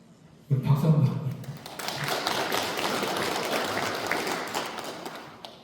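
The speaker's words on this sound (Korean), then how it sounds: "우리 박수 한번" Congregation applauding in a Won Buddhist temple hall, a sudden burst of many hands clapping that holds steady for several seconds after a brief voice at the start.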